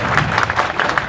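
An audience at a Monrovia city council meeting claps in a short burst of steady applause from a small crowd, with no voices over it.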